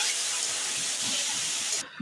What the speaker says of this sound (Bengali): আদা রসুন পেঁয়াজ বাটাটা দিয়ে আমি মশলাটা কষতে থাকবো